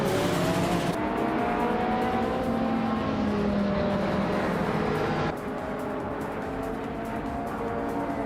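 In a racing video game, a 1984 Audi Sport Quattro engine roars at the Sepang race start as several cars drone loudly and steadily together, with rising and falling engine tones and no speech.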